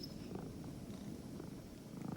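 A cat purrs softly and steadily, a low continuous rumble that stays close and unbroken with no voices over it.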